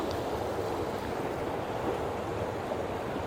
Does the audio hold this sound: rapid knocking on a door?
no